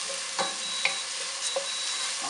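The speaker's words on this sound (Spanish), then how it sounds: "dejemos un ratito que tome color la cebolla y el ajo que suelte el sabor" Onion and garlic frying in a pan for Peruvian ajiaco de papa, a steady close sizzle with a few soft utensil clinks and stirring scrapes, no talking.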